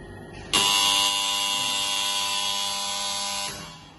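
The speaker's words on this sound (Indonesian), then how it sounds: "Ketika buzzer sudah berbunyi, berarti siklus selama 3 kali tadi sudah selesai." A buzzer in a PLC-controlled three-phase induction motor forward-reverse circuit sounds a loud, steady continuous tone for about three seconds, then cuts off.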